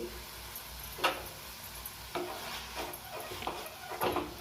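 Cooked red pumpkin leaf bhaji being stirred in a pan, with a few scraping strokes of a spatula about a second apart and low clatter in between, close and fairly quiet.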